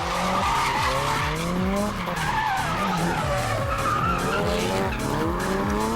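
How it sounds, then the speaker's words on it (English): A Nissan 180SX drifts through a street run, with loud sustained tire squeal and skidding over a revving engine that rises and falls as the car links one slide into the next. "The driver of the Signal 180SX is obviously king of these streets, with drift linking without fault."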